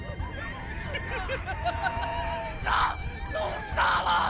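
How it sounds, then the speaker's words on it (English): A panicked crowd screams amid chaos in the video game Love and Deepspace, with harsh shrieking bursts rising twice over a steady murmur of babble and cries, alongside predators' howls. "then howls of predators intermingled with the screams of the crowd"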